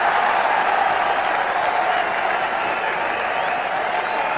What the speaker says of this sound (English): The crowd love it.